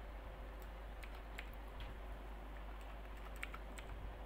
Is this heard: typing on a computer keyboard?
yes